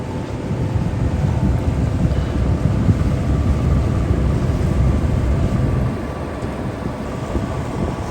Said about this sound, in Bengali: লঞ্চটির পাশ দিয়ে আরেকটি ছোট লঞ্চ যাচ্ছে